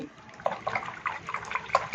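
A round paintbrush is swirled in a container of water to clean it between fabric painting steps, giving soft, close sloshing and light splashing that rises and falls over two seconds.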